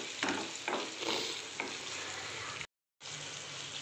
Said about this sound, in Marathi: आपण आता याच्यात तो मोठा कांदा ॲड करतोय